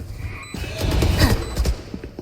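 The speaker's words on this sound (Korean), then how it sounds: "재장전 중" A weapon reloading in a tactical shooter video game, a quick sequence of mechanical clicks, clacks and metallic slides lasting about two seconds, close and fairly loud, with no talking.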